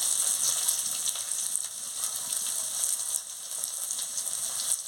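Chopped vegetables, turmeric powder and mustard paste hit hot oil in a pan for a fish and vegetable curry, giving a loud, steady, hissing sizzle that continues without a break and with no voices.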